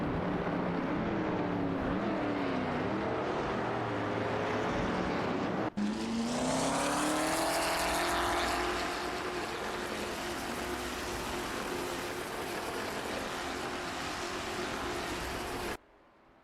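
Race car engines whine and rev in a simulated video game race, a loud continuous roar that rises in pitch as the cars accelerate, with a sharp break partway through and a sudden cutoff at the end.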